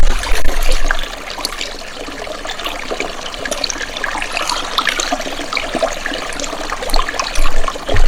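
Steady glacier meltwater trickling and splashing outdoors in Gircha, Gojal, Hunza, a continuous bright rushing with small irregular splashes, fairly close and without voices.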